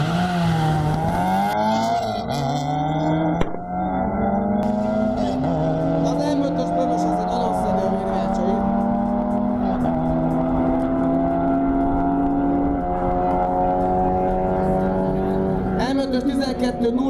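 A Renault Clio 1.8 race car doing a burnout, its engine revving hard and climbing in pitch with tires squealing, the loud strained howl holding steady before dropping off near the end, with people talking over it.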